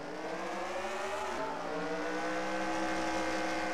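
Race cars at the Phoenix oval during a NAPATS Circle K 150 restart, engines droning loud and continuous with rising and shifting pitch as the pack accelerates back to racing speed.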